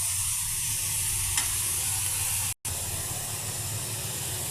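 Mixed vegetables sizzling in oil in a pan, a dense, steady hiss with a faint bubbling undertone, continuous and close, broken by one brief cut of silence.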